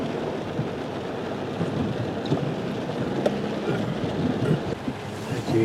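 Swift floodwater rushes past near a bridge during heavy rain and wind, a low, churning roar with steady turbulent rumble and occasional small splashes, fairly close and without speech.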